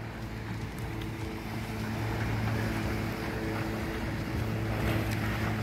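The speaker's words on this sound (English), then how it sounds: "some of these boats really churn up the water though" Motorboats churning up lake water at an RV and camping resort, a steady low engine drone mixed with a wash of wind and water, rising slightly in loudness, with no voices.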